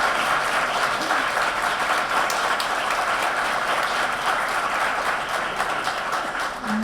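An audience at a civil society forum on sustainable development in the Dominican Republic breaks into sustained applause, a thick, even roar of many hands clapping that runs strongly for nearly seven seconds without talk.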